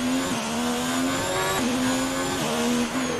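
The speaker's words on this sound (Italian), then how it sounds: "Che cazzo di frenata" A Williams race car brakes hard at Monaco in the F1 2019 video game, its loud continuous engine whine dropping in pitch steps as it slows.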